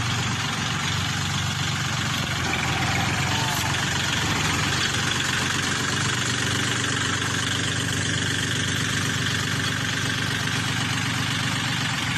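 A 40-horsepower Kubota tractor engine idles steadily nearby, a constant low rumbling drone with mechanical vibration for the whole stretch.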